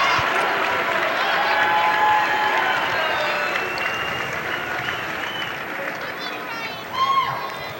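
Lancaster high school basketball crowd in a tournament gym cheering through the third period against Northland, a sustained roar that slowly eases, with an announcer speaking over it.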